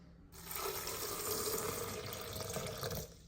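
Water runs from a tap into a yogurt container to rinse it out, a steady close splashing flow that starts abruptly, holds for about three seconds, then cuts off.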